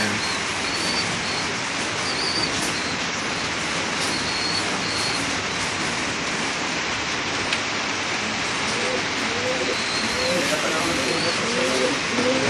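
Pigeons coo in a racing pigeon loft, their low, soft coos growing more frequent toward the end over a steady, noisy background.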